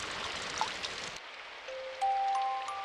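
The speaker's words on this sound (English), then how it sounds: "The rain pattered endlessly against the window." Rain pattering steadily against a window in Symphonic Rain, a soft hissing wash that cuts out after about a second, followed by sustained musical tones.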